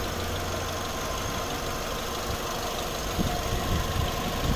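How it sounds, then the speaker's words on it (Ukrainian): A 2009 Skoda Octavia A5 1.6 MPi petrol engine with automatic gearbox idles steadily, a low rumbling drone with a faint regular knock, close by and unchanging throughout. "Ось робота двигуна."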